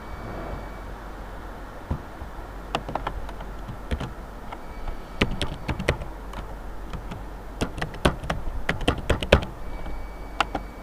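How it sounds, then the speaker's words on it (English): A password is typed on a computer keyboard, quiet scattered key taps at first, then quicker clusters of crisp clicks close to the microphone, with no talking. "type your password"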